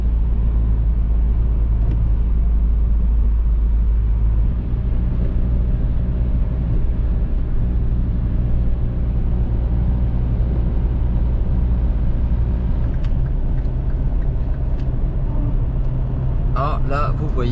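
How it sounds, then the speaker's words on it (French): A car drives along a snowy road in the north and overtakes a snowplow, giving a steady loud engine and road rumble throughout, with faint clicks near the end and no clear separate plow sound. "GG vient de dépasser la déneigeuse"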